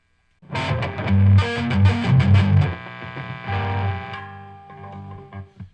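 Heavily distorted electric guitar through a Fender Champion 40 amp's metal channel rings out in sustained, buzzy chords, loud and close, then fades with a few picked notes.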